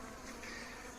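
Drone honeybees trapped at the top of a hive buzz faintly and continuously, a low steady hum with no voices over it.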